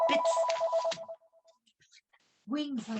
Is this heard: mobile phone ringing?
yes